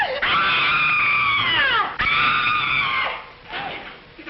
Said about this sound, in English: Did I hear somebody scream?